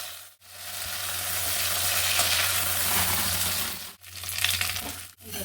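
Mixed vegetables for a curry frying in a pan, a loud continuous close sizzle broken by two brief pauses, with no voices.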